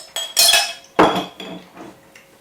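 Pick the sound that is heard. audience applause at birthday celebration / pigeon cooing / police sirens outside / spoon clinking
spoon clinking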